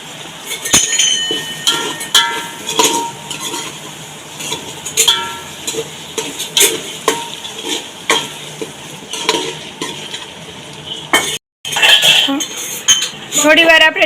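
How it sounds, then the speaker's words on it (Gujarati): A utensil stirs tomatoes and chillies into fried onions and potatoes in a pan, with repeated metallic scrapes and clinks against a faint sizzle and a brief dropout near the end. "હવે આમાં ટમેટા અને મરચાં નાખશું. હવે આને મિક્સ કરશું."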